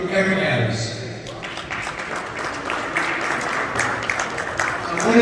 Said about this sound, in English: please give a nice warm applause